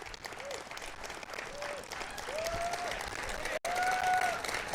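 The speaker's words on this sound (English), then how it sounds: "He deserves a lot of applause for that" Crowd applause breaks out right after an announcement that the United States will withdraw from the Paris Climate Accord, a steady wash of clapping with a few cheers and whistles rising above it, briefly cut off near the end.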